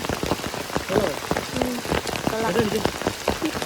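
Heavy rain falls during a wet-season outing, a dense close patter of drops striking surfaces that runs steadily throughout at moderate level.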